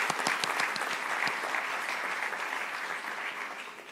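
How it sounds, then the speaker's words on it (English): A crowd claps in steady applause at a school graduation ceremony, dense at first and gradually thinning and softening toward the end. "A round of applause to the group."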